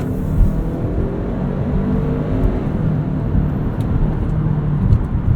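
The turbocharged engine of a 2017 Kia Sportage SX Turbo AWD accelerates hard on a night drive, a loud, steady low rumble and whir heard from inside the cabin without talk.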